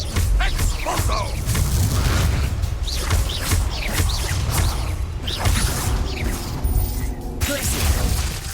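In the Hogwarts Legacy video game, Expulso spell blasts go off amid busy combat, with booming impacts, shattering debris and mechanical whooshes layered densely throughout, while a voice talks over the action.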